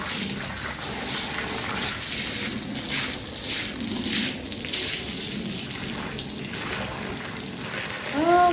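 Water is poured and splashed across a dirty backyard floor during washing, with repeated gushing and splattering bursts, close and fairly loud, with a faint voice briefly at the end.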